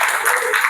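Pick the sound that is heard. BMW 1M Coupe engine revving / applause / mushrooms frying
applause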